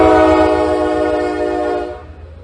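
A train passing through East Palestine, sounding a loud, close, sustained horn chord that fades out after about two seconds over rumbling rail noise.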